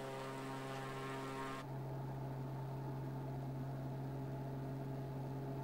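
A propeller aircraft engine at full throttle in Microsoft Flight Simulator 2020, an aerobatic plane, gives a steady, loud droning hum with a strong low tone throughout and a brief higher whine at the start that cuts off.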